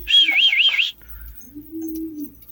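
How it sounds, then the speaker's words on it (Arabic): Pigeons in a loft give a low, drawn-out coo, alone, after a brief high warbling whistle at the start. "الحمام بدها تاكل لانها جعانه طبعا"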